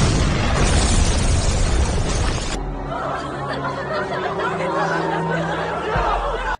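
A bomb goes off in a scene from the Korean film Decibel as a loud, broad blast that rumbles for a couple of seconds and then cuts to a quieter stretch with faint voices and a low hum.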